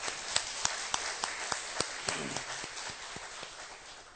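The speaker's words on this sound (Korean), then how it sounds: "우리 한번 감사의 박수를 한번 드리겠습니다." Church congregation clapping in thanks for a worship praise team during a Sunday service, a loose patter of individual hand claps, fairly sparse and moderately close, with no talk over it.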